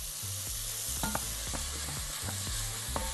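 Onion and garlic frying in a hot pot crackle with a steady sizzle, broken by a few clanks and scrapes as the pan is stirred.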